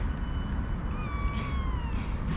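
Several kittens meow, one clear, rising and falling meow standing out near the middle over a constant bed of noise and background movement.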